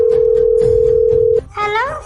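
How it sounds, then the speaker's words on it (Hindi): Telephone dial tone while redialing a call in a Hindi comedy skit: a steady, clear single-pitched tone hums for over a second, then stops abruptly as a voice begins speaking. "दोबारा फोन मिला के देखता हूँ।"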